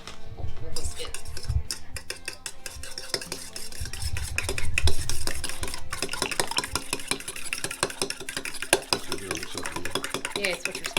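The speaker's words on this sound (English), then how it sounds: "Whisk it. We'll whisk it." Eggs being whisked in a bowl for Maryland-style crab cakes: a busy, continuous clatter of a whisk against the bowl with clinking dish sounds, fairly close and steady throughout.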